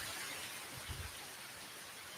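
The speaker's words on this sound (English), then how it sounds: "I'm outside enjoying the rain" Rain falls outdoors as a steady, soft hiss of drops, faint and even throughout, with a couple of dull low thumps near the middle.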